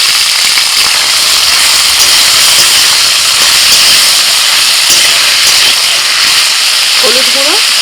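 Mustard oil sizzles loudly in a wok as nigella seeds, green chillies, bottle gourd stems and potatoes go in, a strong continuous hiss close up, with a brief faint squeak near the end.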